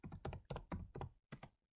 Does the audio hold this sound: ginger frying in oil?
no